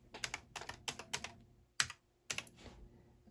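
Plastic keys clatter on a ZX Spectrum +2e home computer keyboard, a few quick bursts of close, crisp keystrokes with short pauses between them and two separate single key presses near the end.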